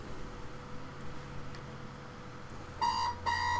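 A household alarm clock, switched back on by someone else, starts beeping near the end in two short loud bursts of rapid electronic tones over steady background hiss.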